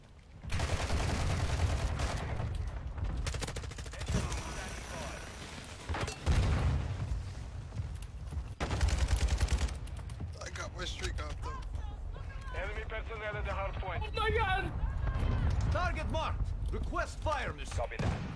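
Near-continuous automatic gunfire and explosions from a Call of Duty match, with rapid bursts and heavy booms under frequent player talk and game announcer voices.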